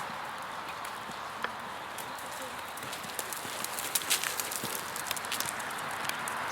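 A horse's hooves thudding on an arena surface during a dressage diagonal, soft irregular clip-clop beats under a steady outdoor hiss, with occasional bird calls.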